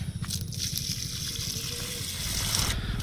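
Water being poured onto plants in a field, a steady close trickling and gushing flow that lasts throughout with no talk.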